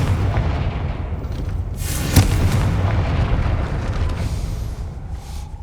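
A Confringo blasting curse erupts in Hogwarts Legacy, a sharp booming blast amid ongoing rumbling combat noise, followed by a second, softer burst.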